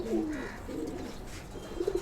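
A domestic pigeon in a home loft coos in low, soft, rolling phrases, one near and fairly quiet call at the start and another short burst toward the end, with no talk over it.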